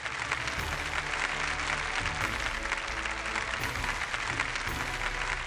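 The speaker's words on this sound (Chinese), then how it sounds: "我们也再次掌声把刘海旺老师邀请到舞台上来" Audience in a lecture hall at a public archaeology lecture on the Zhou Bridge site in Kaifeng applauding steadily and loudly throughout, a dense continuous clapping with no speech over it.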